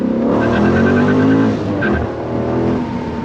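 A 2012 Dodge Challenger SRT8 392 with a six-speed manual pulls hard in first gear, its loud V8 rising in pitch from inside the car, then briefly dipping and climbing again.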